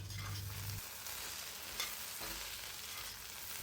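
Cut okra pieces fry in a pan and are tossed over, giving a continuous close sizzle with soft shuffling and scraping bursts as they turn, with no voices.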